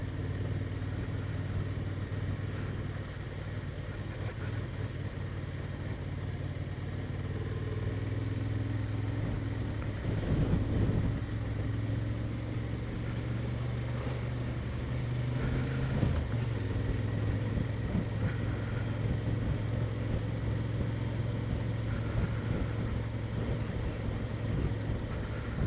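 A Honda Transalp 750 motorcycle ridden along a narrow lane, its engine humming steadily at low revs with small swells, continuous and close throughout, no talking.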